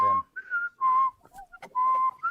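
A person whistles a short tune in quick, repeated bright notes, close and clear, with brief pauses between phrases.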